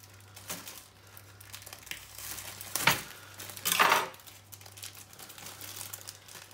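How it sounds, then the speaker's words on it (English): A plastic bag of red onions is torn and crinkled open close by, with two louder crackling bursts over soft rustling and faint kitchen clatter. "So opening up the onion because I forgot"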